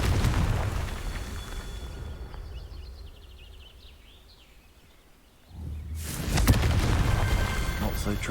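A Confringo blast spell goes off in Hogwarts Legacy, a sudden loud burst and rumbling boom after a quieter stretch of ambient rustle and faint chimes, with a voice heard earlier.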